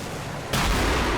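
A LAW rocket launcher fires in the video game Combat Mission: Cold War, a sudden loud, sharp blast that cuts in over low background rumble and sustains a heavy roar.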